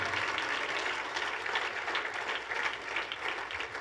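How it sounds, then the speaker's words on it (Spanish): A church congregation applauds in a steady, dense wash of many hands clapping, fairly loud and sustained for the whole stretch with no talk over it. "ese aplauso es para el Señor"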